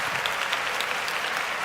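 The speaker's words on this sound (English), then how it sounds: "let's clap it up for Big Brock, baby" A studio audience applauds in a dense, even wash of clapping that holds at a steady level throughout, with no voices over it.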